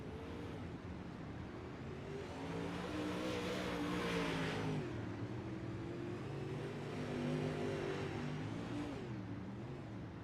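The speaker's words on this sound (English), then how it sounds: "Pandemonium here at Lucas Oil in these UMP modifieds." UMP modified race cars at Lucas Oil in a sim racing game, with a pack of engines roaring and revving together, swelling and fading as they pass, with no voices heard.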